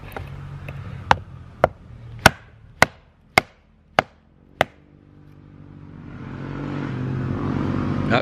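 Nine sharp, evenly spaced chopping strikes from a Ka-Bar Becker BK2 knife biting into wood, close and loud, followed by the rising drone of passing dirt bikes in the distance.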